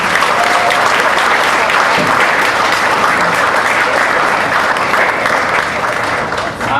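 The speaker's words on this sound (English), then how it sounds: "How about a round of applause for us?" Wedding guests at a reception give a loud, sustained round of applause, dense clapping filling the room steadily throughout.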